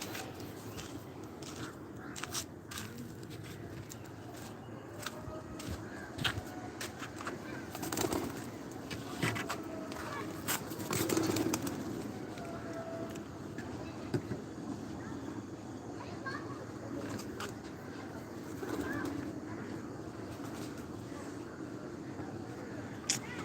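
Pigeons coo softly in a rooftop loft, with occasional wing flaps. Someone speaks over them and boat or traffic noise hums in the background.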